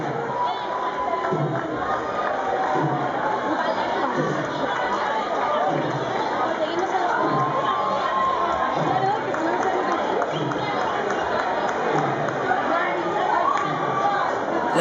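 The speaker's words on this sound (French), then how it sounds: "La foule excite les chevaux avec ces hollas pour les faire se cabrer." A dense street crowd at Ciutadella's horse festival in Minorca shouts and chatters continuously, with excited calls and cheers rising over a steady roar of many voices close at hand.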